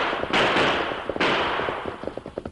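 Gunshots in a western radio drama: two loud, sharp blasts a little under a second apart, each followed by a decaying rumble, then quieter rapid clattering.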